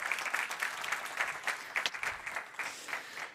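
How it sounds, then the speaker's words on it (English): An audience at a table tennis health congress claps in a steady burst of applause, dense and lively throughout, filling the hall without any talk. "So big applause for them."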